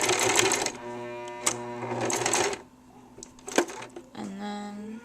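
Sewing machine running a short backstitch on fabric while sewing a shirred top, its motor whirring in close, steady bursts that start, pause and restart, with faint talk in the background.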